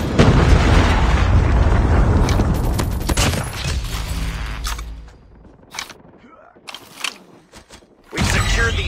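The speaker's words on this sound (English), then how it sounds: "Friendly airstrike incoming." Airstrike explosions in the mobile shooter game Call of Duty Mobile, a Hardcore Hardpoint match: loud rolling booms and bursts crowd the first few seconds, fade into sparse pops and clicks, then another heavy blast hits at the end.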